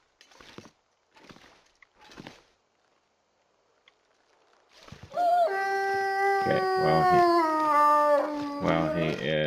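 A wolf howls in the survival video game The Long Dark on Interloper difficulty, a loud sustained wavering howl following a few soft crunching footsteps, with a brief spoken word before it.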